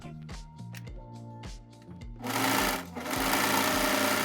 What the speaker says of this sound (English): Here I am sewing the top shoulder seams.